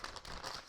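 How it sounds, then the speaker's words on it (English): A new product packet is ripped open with a brief, faint crinkling tear of the wrapping heard close up. "Here's a new one in this packet. Just rip that open."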